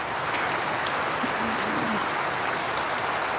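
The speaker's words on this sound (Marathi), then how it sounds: "चांगलाच पाऊस आहे" Sudden heavy rain pours in a dense, unbroken roar, loud and close, with a faint voice briefly under it.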